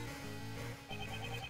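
A cell phone ringtone chimes in the Ace Attorney Investigations 2 video game, a steady, moderately loud electronic ringing pattern that repeats through the short stretch with no one talking over it.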